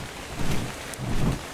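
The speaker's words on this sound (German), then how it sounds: "Bei diesem wunderschönen Regen." Rain falls in the survival game ARK: Survival Evolved, a steady broadband hiss with soft low rumbles swelling underneath, with no voices.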